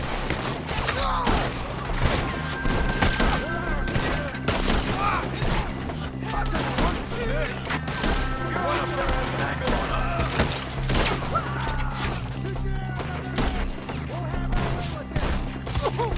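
A chaotic Red Dead Redemption II shootout: repeated rifle and pistol shots crack in quick, irregular volleys with thuds and impacts, while voices shout over the gunfire.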